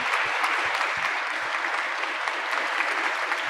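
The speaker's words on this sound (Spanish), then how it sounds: "Qué bonito escuchar esos aplausos" Applause from an audience at a social and solidarity economy forum session, a dense steady wash of many hands clapping at moderate distance, sustained evenly throughout without voices.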